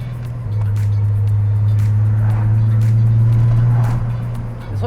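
A supercharged six-cylinder hot hatch accelerates hard, its engine holding a loud, steady drone close by, with a brief drop and recovery near the start and end.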